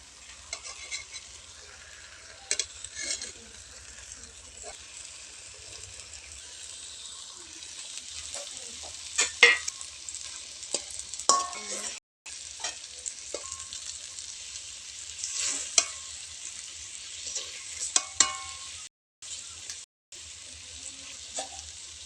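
Katla fish sizzling and frying in oil-rich spiced masala in a pan, with intermittent stirring and scraping, a steady close hiss throughout, a brief water splash or tap sound in the background, and no talk.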